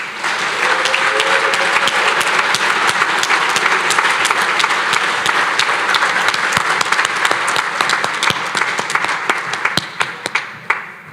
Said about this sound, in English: Give him a round of applause again also